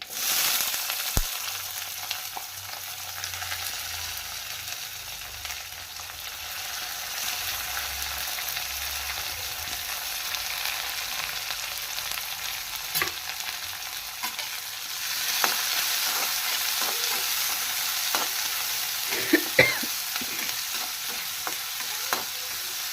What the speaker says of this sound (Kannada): ಚೆನ್ನಾಗಿ ಫ್ರೈ ಮಾಡ್ಕೋಬೇಕು ಗೋಲ್ಡ್ ಕಲರ್ ಬರೋವರೆಗೂ